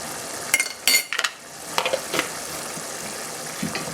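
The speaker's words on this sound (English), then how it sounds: "Now stir this around." A spoon stirs beans stew in a pot seasoned with ground habanero pepper, giving several scraping and clinking knocks against the pot over a soft steady sizzle, with no talking.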